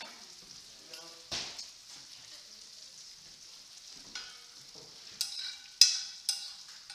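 Stir-fry vegetables, carrots among them, sizzle steadily in a hot pan as they are stirred around, with a soft continuous frying hiss and a few sharper scraping clatters near the end.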